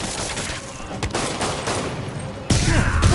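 Gunfire crackles in the Spider-Man video game, a dense burst of rapid shots and impacts mixed with game sound effects, growing louder near the end.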